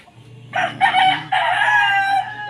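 A rooster crows loudly and close by, a long strained call over a steady low farmyard hum, with faint hen clucks underneath.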